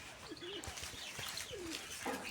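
Pigeons in a loft with their young give a few faint, soft, wavering coos at a distance, over a quiet background.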